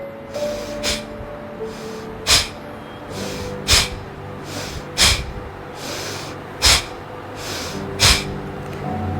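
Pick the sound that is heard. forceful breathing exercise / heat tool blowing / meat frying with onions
forceful breathing exercise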